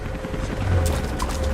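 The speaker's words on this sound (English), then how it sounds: "That was Constantine's chopper." A helicopter in Rise of the Tomb Raider, heard as a brief, steady low rumble and whir with faint mechanical noise layered on top.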